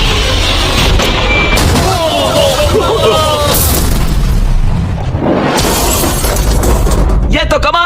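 A huge blast during a stunt pitting a Lamborghini against a giant shredder: loud booming and shattering debris, with crackling bursts and rumbling, and voices shouting amid the chaos.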